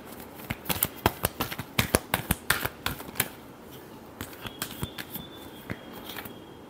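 Tarot cards shuffled by hand at close range, giving a quick run of crisp papery slaps and riffles that slows and fades toward the end.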